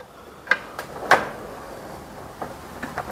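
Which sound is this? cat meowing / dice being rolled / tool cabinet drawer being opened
tool cabinet drawer being opened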